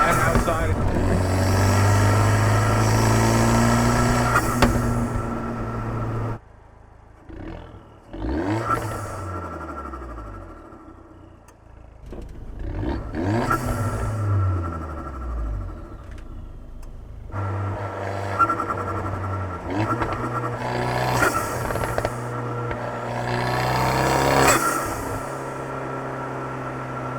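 Fiat 124 Spider Abarth with a turbocharged engine, idling with a low burble, then blipped into repeated sharp revs that rise and fall. The exhaust is loud and close, and turbo whistle and whoosh follow each rev.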